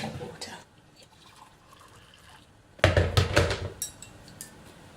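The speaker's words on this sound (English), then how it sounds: "I'm going to pour in the matcha, and then I'm going to add some more boiling hot water." Boiling hot water poured into a mug of matcha, a soft liquid trickle at first, then a louder splashing pour with clinks of the mug, close by with no talk.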